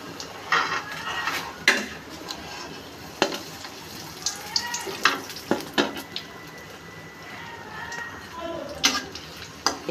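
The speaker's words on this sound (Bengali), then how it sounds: "একইভাবে আমি সবগুলো পিঠা ভেজে নেব।" Malpua pitha fry in a pan with a steady sizzle, broken by clinks and scrapes of a utensil against the pan, and some voice underneath.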